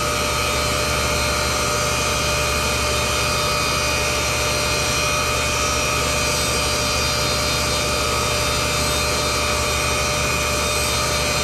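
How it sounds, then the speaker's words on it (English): A valve seat grinding wheel's edge grinding a steel industrial lathe chuck jaw, a steady loud whine and rough hiss of abrasive on metal over a constant motor drone, continuous throughout with no voices. "I'm using the edge of a valve seat grinding wheel here"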